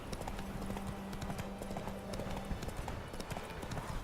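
Horse hooves gallop at a steady, rapid clip-clop across the Witcher 3 game world, with an even, continuous rhythm throughout.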